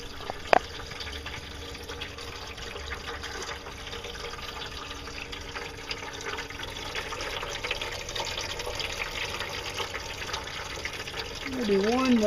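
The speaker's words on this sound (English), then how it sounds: "Got a nice flow of water." Water flowing steadily from a small pump setup used for gold prospecting, a constant splashing rush through the whole stretch with a brief knock early on and someone talking briefly at the end.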